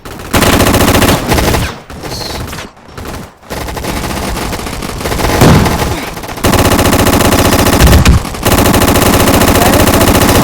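Loud, dense automatic gunfire from a gun-fight video game rattles in long sustained bursts, broken by brief gaps, with scattered single shots.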